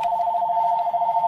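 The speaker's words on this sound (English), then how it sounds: "then, of course, the phone's going to ring" A Minecraft phone built from note blocks rings in one steady electronic tone that holds without a break, loud and close, with no talk over it.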